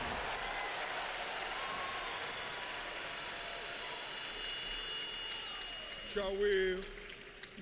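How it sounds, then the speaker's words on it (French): A church congregation applauds in a dense, sustained wash of clapping and cheering, then a voice rises over it near the end. "Acclamez très fort le Seigneur."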